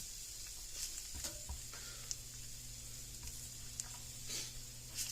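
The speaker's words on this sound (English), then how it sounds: "Give that another good little mixing." A tater tot casserole mixture with jalapenos being stirred in a pan, soft sizzling with scattered scraping and squishing strokes over a low steady hum, no talking.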